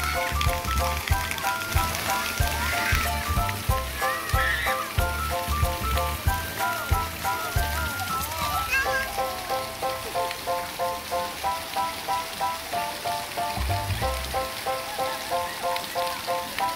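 Water sprays and splashes steadily at an outdoor splash pad in Cannery Square, Sherwood, Oregon, a dense hiss of falling water with rhythmic pulses throughout, fairly loud and continuous with no talk over it.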